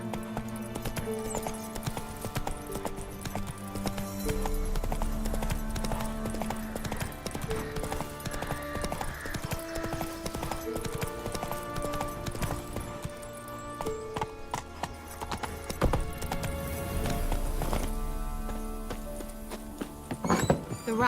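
Roach the horse clip-clops steadily through The Witcher 3: Wild Hunt, hooves thudding at a riding pace over game music and ambience, with an occasional faint whinny.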